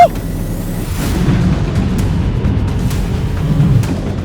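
A Leclerc main battle tank ploughs into a car, a heavy low rumble with crunching impacts and scraping thuds sustained throughout, loud and close.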